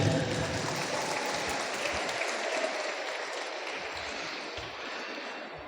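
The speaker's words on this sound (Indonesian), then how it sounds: "Tepuk tangan untuk grup Rebana." Crowd in a sports hall (GOR) claps for a rebana percussion group at a religious gathering, sustained, fairly even applause that slowly fades over several seconds.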